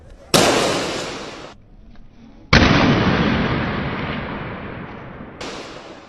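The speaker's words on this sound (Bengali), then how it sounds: "টাস করে গুলি করে দিল।" Police gunshots from a played video ring out as three loud, sharp blasts, each trailing off in a long echoing decay, with no talk over them.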